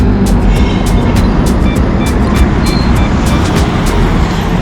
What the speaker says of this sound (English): Alright, so we've got a bus coming.